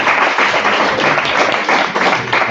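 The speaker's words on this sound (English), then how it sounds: "Round of applause" A classroom audience gives a short burst of steady, close applause after student presentations for a creativity and innovation course.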